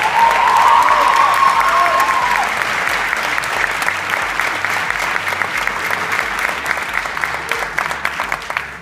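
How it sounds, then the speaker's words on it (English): A round of applause from a school graduation audience during a valedictory speech, loud and sustained for nearly nine seconds, dense clapping with faint crowd noise blended in, slowly tapering but still going at the end. "So can you please give these four awesome people a round of applause?"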